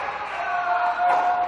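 A packed crowd roars at the 2011 US Open racquetball women's final between Paola Longoria and Rhonda Rajsich, a steady, loud wash of cheering throughout.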